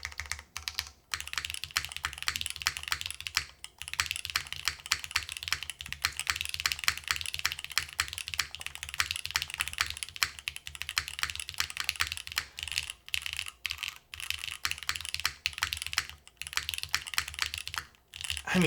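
Continuous typing on an Osidian TKL v2 keyboard fitted with SW Cocoa Black switches, a dense, steady run of close keystrokes with brief pauses, no voices.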